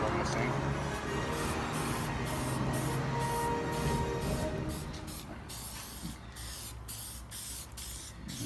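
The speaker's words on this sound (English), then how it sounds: "we spray just a little tack coat on this thing" Tack coat sprayed from a sprayer in a steady, close hiss that runs continuously, easing slightly toward the end with small gaps as spraying pauses.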